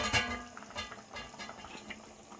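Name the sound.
chicken curry boiling under lid to thicken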